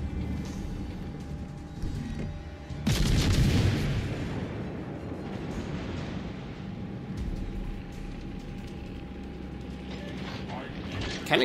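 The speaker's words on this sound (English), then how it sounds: "When I fire my guns." Warship main guns fire in World of Warships Legends, a heavy booming salvo near the three-second mark that rumbles and fades, set against a constant game background hum.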